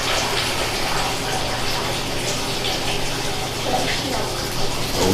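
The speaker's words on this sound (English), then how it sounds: "now I'm going to pump it out of here and put it in the tank." Milk being pumped into a tank on a dairy farm, a steady, loud rushing and gushing of liquid with a low pump hum underneath, continuous and close.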